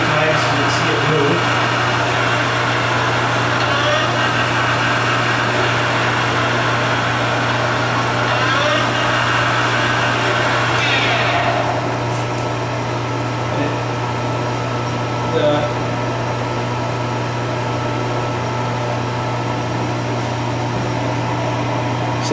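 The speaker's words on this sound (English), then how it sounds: "You can see how the pressure plate advances into the pulley and essentially causes the friction material to grab onto the pulley and it turns the input shaft" A Chin Hung lathe's clutch pressure plate cycles against its pulley, a steady machine hum and broadband whir running loud throughout, easing slightly partway through with a few brief clunks, while a voice talks over it.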